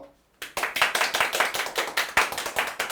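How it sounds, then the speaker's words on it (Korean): Applause from a small group begins abruptly after a brief quiet moment, loud and steady, with individual claps standing out in a quick, uneven patter. "오늘 이렇게 관중들이 말해서 박수 소리가 아주 좋은 것 같습니다."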